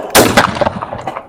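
A single sharp gunshot cracks out at a shooting range, loud and close, followed by a brief decaying echo with no talking.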